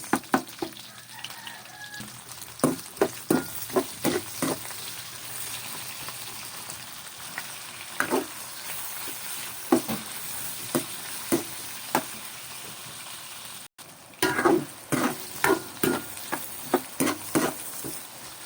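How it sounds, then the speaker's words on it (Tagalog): Garlic, onion and tomato sautéing in a pan for chicken mechado, a steady sizzle with repeated sharp scrapes and clicks of a spatula stirring throughout. "Sunod na natin dyan pag-isa ng bawang, sibuyas at ang ating kamatis."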